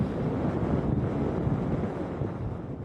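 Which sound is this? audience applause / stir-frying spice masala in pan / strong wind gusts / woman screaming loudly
strong wind gusts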